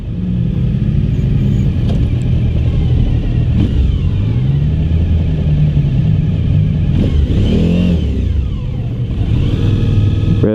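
A 2016 Suzuki V-Strom 1000 motorcycle is heard while riding: a loud, close engine drone revs up and down through the gears, with rising and falling pitch and rushing wind noise.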